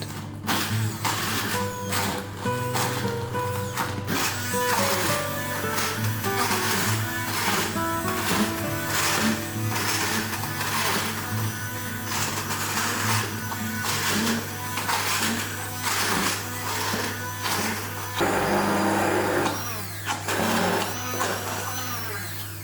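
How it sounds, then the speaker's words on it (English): An immersion blender purées cooked quince into a smooth paste, a steady loud motor whir running the whole time with shifting pitch and brief pulses as the blade moves through the thick fruit. "get your immersion blender out and blend it down until it becomes a smooth paste"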